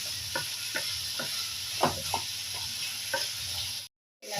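Vegetables for a poriyal sauté in oil, a continuous sizzle under regular scraping stirs of a spatula against the pan, close and clear, cutting out abruptly near the end.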